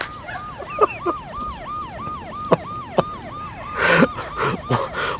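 An ambulance siren wails in a rapid, repeating rising-and-falling yelp, close and loud, with sharp knocks and a burst of rumbling noise near the end.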